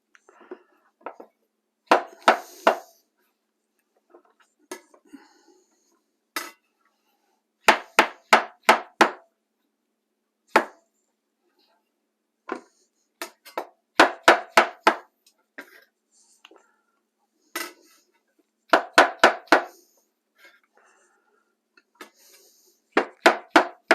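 A knife cuts mushrooms into thick slices on a board for a simple stir fry, giving short bursts of three to five close, crisp chops separated by pauses, with light handling noises between.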